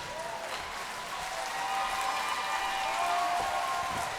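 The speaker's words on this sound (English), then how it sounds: "Ladies and gentlemen, clap your hands for the fighters." Crowd applauding the fighters after a bout at a WXC 69 MMA event: a steady, dense wash of clapping and crowd noise, loud and continuous throughout, with no talk over it.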